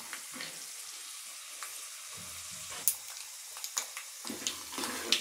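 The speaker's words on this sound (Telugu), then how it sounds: "ఇలా వేగాలండి మంచిగా, గోల్డెన్ బ్రౌన్ కలర్లో వచ్చి రావాలి." Ingredients for lemon rice fry in hot oil until golden brown, a soft, close sizzle with scattered crackles and occasional sharp pops from stirring.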